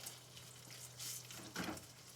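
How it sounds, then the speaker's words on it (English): Cream cheese is stirred as it melts in a hot Copper Chef pan, giving a soft, continuous sizzle with a few scraping swells from the spoon, close and quiet. "Stir this around until it gets nice and creamy."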